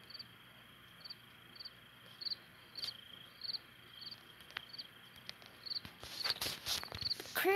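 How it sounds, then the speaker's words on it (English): Crickets chirp in a steady, repeating rhythm over a quiet night backdrop in a Roblox camping game, with soft footstep-like rustles growing louder toward the end. "Crickets really sound like they're in real life."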